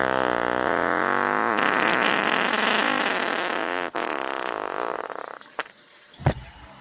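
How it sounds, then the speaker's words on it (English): A long, buzzing fart with a raspy, wavering pitch, loud and steady for about five seconds before it sputters out into a few short, faint pops. "and that is a real fart"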